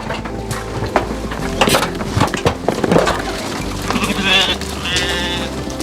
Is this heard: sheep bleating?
yes